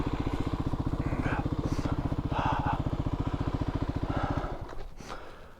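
A Kawasaki KLX250 dirt bike engine labours up a steep hill, a steady rapid single-cylinder thumping that holds for about four and a half seconds before fading away, with faint sounds over it.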